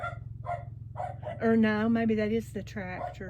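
A dog barks repeatedly, loud and close, in short bursts with one longer run of barks midway, under and between a person talking, with a low mechanical drone steady in the background.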